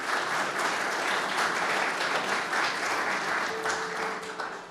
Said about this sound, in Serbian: molim vas jednim aplauzom da pozdravimo predsjednika